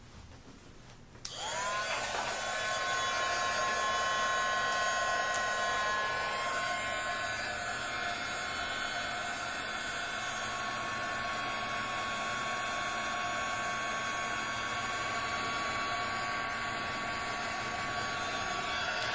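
A heat tool switches on with a click and blows a steady, loud, whining hiss of hot air over embossing powder, running continuously and close for the rest of the clip.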